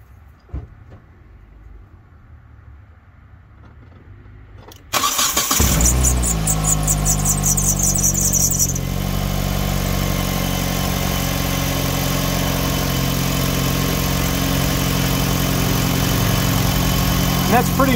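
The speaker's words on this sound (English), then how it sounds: "now the next thing we do is we start it up and we listen for leaks" A 2005 Hyundai Tucson GL 2WD cranks and catches after a catalytic converter replacement, then settles into a steady, loud idle with a low engine rumble close by, following a few seconds of quieter background.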